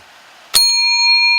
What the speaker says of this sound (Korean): 이 새벽 종소리입니다